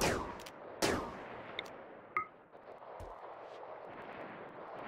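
Gunshots in a RimWorld fight, a few sharp cracks early on and scattered lighter reports afterward over a steady low rumble, with no speech.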